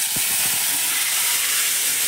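Marinated mutton sizzles in a little oil in a wok, a steady, bright hiss that fills the whole stretch with a few faint crackles near the start.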